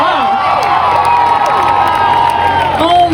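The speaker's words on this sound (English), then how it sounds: "Round of applause for Nita" A lively crowd at a Holi celebration on a college campus cheers, whoops and applauds, loud and steady throughout, with excited shouts over the clapping.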